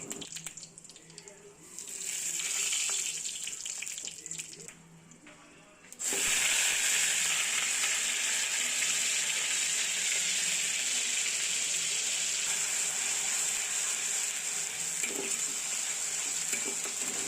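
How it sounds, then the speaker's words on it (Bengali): Onion paste goes into hot oil over fried tempering spices in a wok; after a quieter stretch a loud, steady sizzling hiss bursts in and holds to the end. "ফোড়নটা একটু ভাজা ভাজা হয়ে গেলে ওর মধ্যে পেঁয়াজ বাটাটা প্রথমে দিতে হবে।"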